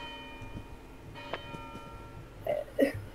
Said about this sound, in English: I'm ringing the bell.